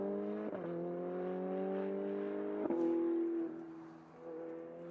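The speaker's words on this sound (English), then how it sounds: "You can hear him hesitant on the throttle over the crest of the hill" A GT race car engine drones steadily at high revs on a hillside circuit, with brief dips where the driver eases the throttle over a crest before the note holds again, loud and close.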